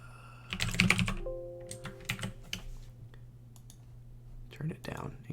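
Quick bursts of computer keyboard typing and clicking up close, irregular clusters of keystrokes with short pauses, while a tone and some background sound play underneath.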